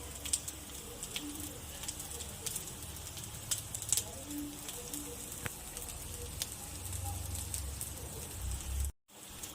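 Sabudana appe fry in an appe pan as a little oil is added around them, giving a soft, steady sizzle and crackle that stays faint throughout, then cuts out briefly near the end.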